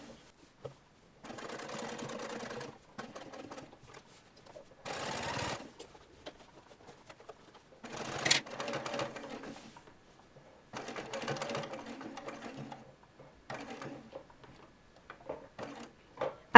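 A sewing machine top-stitches a rever collar on a shirtwaister dress, running in several short bursts of rapid stitching separated by quiet pauses and small clicks as the fabric is turned at the corner.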